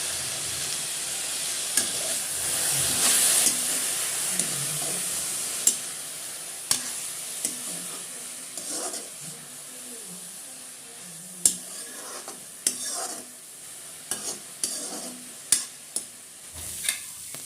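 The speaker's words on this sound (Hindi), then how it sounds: "इसको भी हम एकदम गोल्डन ब्राउन होने तक एकदम लो आंच पर पकाएंगे।" Cabbage, potato and peas fry in a pan on low heat with a steady sizzling hiss, punctuated by repeated sharp scrapes and knocks of a spoon stirring, nearby with no talk.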